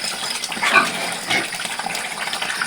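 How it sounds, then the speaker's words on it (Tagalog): Water poured in to refill a supply on a small farm where a pregnant pig is kept, a steady broadband gushing rush with a couple of louder surges, close and continuous throughout. "Maglalagay lang ako ng tubig. Kasi wala na yung tubig."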